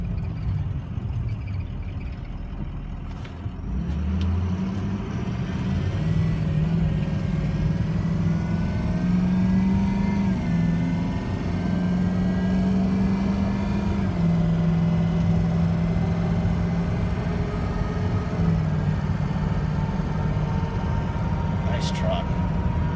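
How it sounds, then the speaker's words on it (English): A 2003 Ford F550 truck rolls down the road with a steady engine drone and road rumble throughout, a gear change early on, and someone talking over it. "This is a big truck, and it runs really nice down the road."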